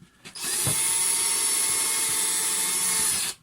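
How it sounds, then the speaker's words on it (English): An ordinary electric drill fitted with a 2-inch nail as a bit whirs steadily at high speed, boring holes into a vine; one continuous run of about three seconds, close and alone. "I've taken my ordinary drill and a little 2-inch nail. Works perfectly as a drill. And I'll just drill the holes."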